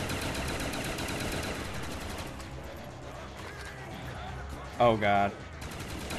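Rapid gunfire in the Call of Duty zombies map Der Riese, a dense clatter of shots running beneath the game audio with players talking over it and a brief loud shout near the end.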